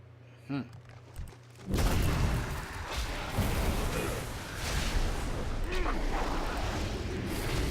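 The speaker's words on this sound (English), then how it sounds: "Here, use a rocket launcher. It'll take them down instantly." Rocket launcher fire against behemoths in World of Warcraft: after two short early knocks, a sustained loud roar of booming, explosive blasts rolls on continuously, like heavy artillery in the game.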